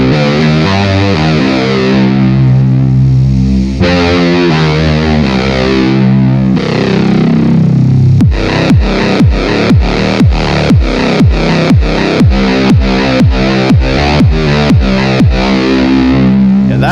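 A Minilogue or MicroFreak synthesizer runs through a Zoom MS-50G effects pedal, first as loud sustained, distorted chords, then as a rapid series of sharp, evenly spaced plucked notes, each decaying quickly.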